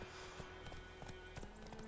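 Horse hooves clip-clop at a steady trot in The Witcher 3 video game, evenly spaced hoofbeats heard up close over a constant background hum, no talking.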